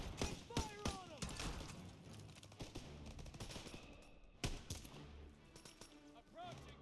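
Rapid bursts of wartime gunfire from the Call of Duty WW2 campaign, near and loud, with repeated cracks and a heavier thump midway, mixed with battle noise and shouted voices.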